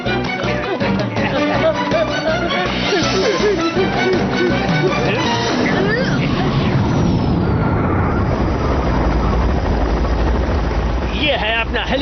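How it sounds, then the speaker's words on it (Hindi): Cartoon helicopter in a Doraemon episode, a loud continuous rotor and engine roar that swells and thickens partway through, filling the whole clip with no break. "ये है अपना हेलीकॉप्टर।"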